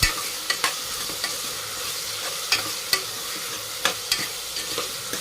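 A spoon stirs vegetable pulao with salt in a hot oily pan, with steady sizzling frying underneath and sharp scraping knocks against the pan at irregular intervals, close up with no talking.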